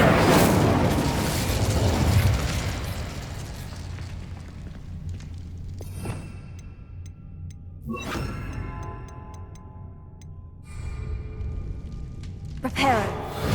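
The Incendio fire spell is cast in Hogwarts Legacy with a loud whooshing burst that slowly fades, followed by scattered sharp crackles and chimes in the game environment.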